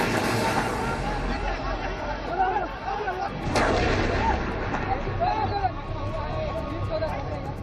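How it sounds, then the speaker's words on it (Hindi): Serial bomb blasts in Patna, India: one heavy, sharp boom rises midway out of a dense, rumbling din of crowd babble and voices, with a continuous low roar throughout. "पटना में हुए एक के बाद एक 8 सिलसिलेवार धमाके"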